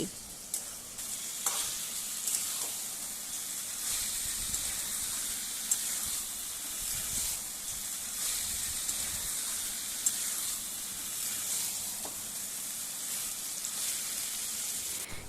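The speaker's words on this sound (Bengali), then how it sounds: "এবার আমি অ্যাড করে দিচ্ছি ম্যারিনেট করা চিকেনটা। চিকেনটা দেওয়ার পর ভালো করে কষিয়ে নিতে হবে।" Marinated chicken pieces sizzle and fry in a pan, stirred now and then, with a steady bright crackle and occasional scraping knocks throughout.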